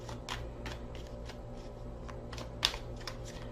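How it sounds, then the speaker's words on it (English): An Aquarian Tarot card deck being shuffled close up, with a steady run of quick, soft riffling flutters and one sharper snap partway through over a low background hum. "I'm using the Aquarian Tarot deck."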